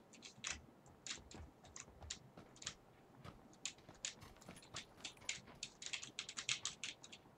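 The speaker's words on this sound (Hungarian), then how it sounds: "2500 forintos billentyűzet." Clicky typing on a cheap computer keyboard during a game, quick irregular keystrokes close and fairly quiet, building into a faster flurry toward the end with no voices.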